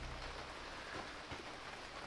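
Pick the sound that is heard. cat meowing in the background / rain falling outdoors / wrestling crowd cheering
rain falling outdoors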